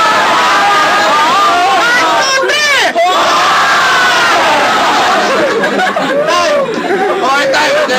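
A loud crowd at a head-to-head battle contest shouts and cheers in a dense, continuous roar of overlapping voices that stays close and steady throughout.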